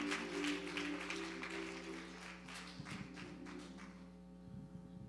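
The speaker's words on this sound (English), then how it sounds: "Let's clap. Let's clap." A church congregation claps along in a Sunday service, a dense, fairly quiet patter of hands over a steady hum that thins out toward the end.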